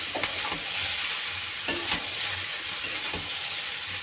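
Pasta and chow mein stirred in a frying pan, a continuous close sizzle with a few distinct scraping strokes of the utensil spaced through it, no voices.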